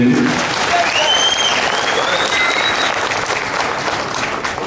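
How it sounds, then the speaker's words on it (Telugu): Loud, dense audience applause fills the hall continuously at a Tirupati news event, a steady wash of many clapping hands with faint tones and voices audible beneath it. "ఇది కరెక్ట్ గా ఉంది అనుకుంటే గట్టిగా చప్పట్లు కొట్టి హర్షాలు తెలియజేయండి"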